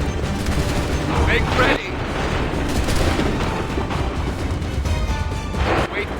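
Musket volleys ring out in a battle in Assassin's Creed III, a dense roar of gunfire with booming bursts over continuous noise while a commander shouts orders.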